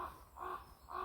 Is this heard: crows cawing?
yes